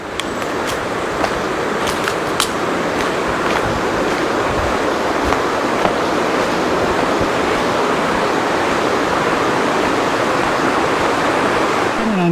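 Flowing water from a river at Simpson Lake Park rushes steadily along the bank, a constant broad wash with a few brief knocks and scrapes close by.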